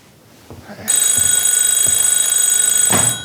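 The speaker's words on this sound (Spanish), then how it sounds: "Doris, teléfono." A telephone rings with a loud, continuous electronic trill that starts abruptly after a few soft knocks and holds steady for over two seconds before cutting off.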